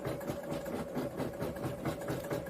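An embroidery machine runs steadily with a low mechanical hum and a quick, even pulsing of stitches, faint and continuous throughout.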